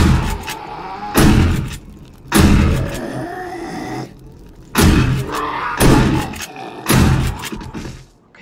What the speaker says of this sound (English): Okay, shotgun time.